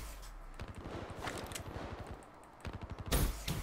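Rapid automatic gunfire in the video game Black Ops 3 rattles out in quick bursts, with fast repeated shots, a short pause, then another loud burst.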